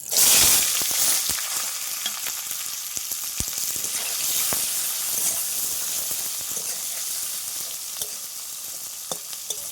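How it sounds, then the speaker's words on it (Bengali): Chopped onion frying in hot oil with cumin seeds and bay leaf, a loud, steady close sizzle with occasional stirring scrapes and spatters, continuous throughout with no voices. "পেঁয়াজটাকে ভালোভাবে লাল লাল করে ভেজে নেব"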